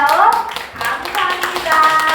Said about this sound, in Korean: 우리 함께 세대항에서 박수 한번 보내드릴까요?